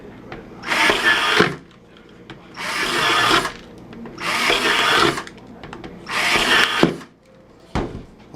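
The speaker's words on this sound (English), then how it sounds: "now we finished drilling our holes" A power drill bores holes through a plastic bucket in four loud, roughly second-long bursts, each separated by a short quiet gap, followed by a few small knocks at the end.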